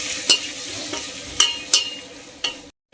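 Onion and capsicum fry in a pan, a soft continuous sizzle broken by four sharp metallic spatula scrapes as the mix is stirred, ending in a brief silence.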